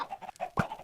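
Chickens in Minecraft, the video game, give short clucks in a quick uneven run, near and clear, with one sharper, louder cluck toward the end and no talking.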